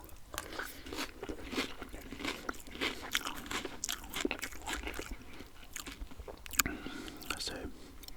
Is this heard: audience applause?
no